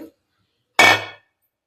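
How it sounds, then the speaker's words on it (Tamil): A metal paniyaram pan is set down on a stove with a single sharp clanking impact that rings briefly and fades within half a second, close and fairly loud, with no talk. "நம்ம ஒரு பணியார குழியை அடுப்பில் வச்சுக்கலாம்."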